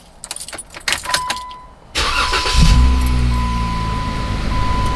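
A Jeep Wrangler JKU is switched on: a few light clicks and rattles, then a sudden steady electrical hum with a thin tone that carries on, close by.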